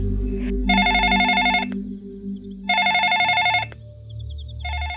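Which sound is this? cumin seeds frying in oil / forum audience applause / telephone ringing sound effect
telephone ringing sound effect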